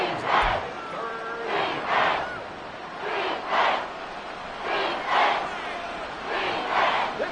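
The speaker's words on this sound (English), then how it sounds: "This crowd turning up the decibel level." Stadium crowd noise in the Madden football video game, a steady roar rising and falling in repeated swells of cheering, fairly loud and continuous with no clear talk over it.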